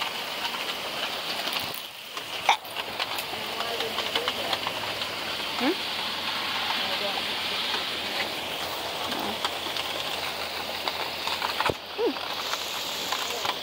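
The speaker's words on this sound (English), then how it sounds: "You know it's raining?" Steady rain hisses broadly throughout, with occasional louder drips and brief faint voices in the background.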